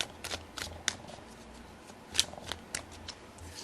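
Tarot cards shuffled by hand close up, with soft riffling swishes and several sharper card snaps at irregular moments, no talking.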